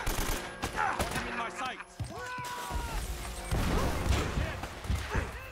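AK assault rifle fired in the video game Uncharted: Drake's Fortune, with repeated sharp bursts of gunfire and impacts, while a voice talks over the action.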